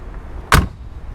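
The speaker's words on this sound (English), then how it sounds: "Listen to how that door closes," A single solid thud of a 1994 Mercedes-Benz G350 Turbo Diesel Cabrio door shutting, sharp and close, alone against faint background hum.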